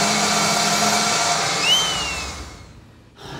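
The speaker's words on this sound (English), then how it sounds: "That's the sound of the spinning wheel whizzing round and round," A water park pump's spinning wheel whirs steadily as it pushes water up to the top of a slide, a loud, continuous mechanical hum that swells briefly and then fades away.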